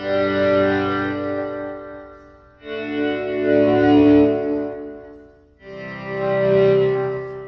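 Three slow electric guitar swells made with the guitar's tone knob, each chord fading in and dying away with a wide, shimmering effected tone and gaps of near silence between.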